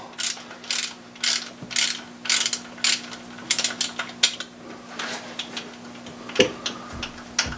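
A ratchet wrench turns out a bolt on the Vanos unit of a 2004 BMW 325xi engine during a rebuild. It gives close, crisp metallic clicking in irregular bursts of rapid ticks with short pauses, alone without speech.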